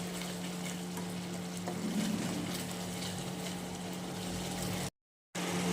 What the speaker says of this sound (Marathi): व भाजीला उकळी येऊ देऊ